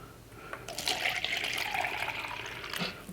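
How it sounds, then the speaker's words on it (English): Diluted bleach poured from a container into a plastic cup, a steady splashing trickle lasting about two seconds, fairly quiet and alone. "am going to pour this into a cup, like just a plastic cup"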